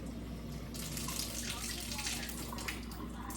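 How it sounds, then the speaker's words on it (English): Kangen alkaline water poured into a glass for an acid versus alkaline demonstration: a continuous gushing, splashing stream, close and steady, over a constant low hum. "So let's first take a glass of Kangen water."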